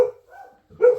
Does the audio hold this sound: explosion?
no